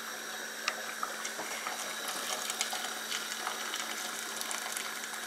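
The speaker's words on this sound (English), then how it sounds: "I'm going to add the hot water." Hot water pours into a soup pot holding scallops, a mackerel head and cow meat and bones: a continuous moderate splashing and gurgling with small spatters, no voices.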